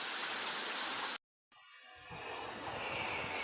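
Steady rain during a rainy-day drinking session, a dense even hiss interrupted by a brief cut of silence before resuming at the same level; no speech.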